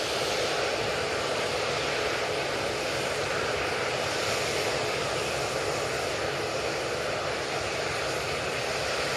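An Aer Lingus A380 airliner on final approach to Manchester Airport gives a continuous loud jet roar that stays even throughout, with no talk over it.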